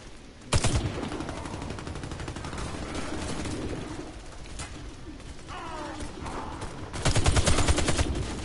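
Gunfire in the video game Warface, rapid automatic bursts at the start and again near the end, with mechanical clatter and quieter shots between them, loud and close.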